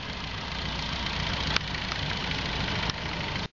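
A tractor engine running outdoors, a steady low droning idle with a constant rumble throughout, cutting off abruptly at the end.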